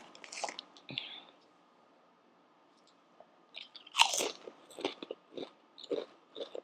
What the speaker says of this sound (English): Crab boil chips. Okay, let's try this.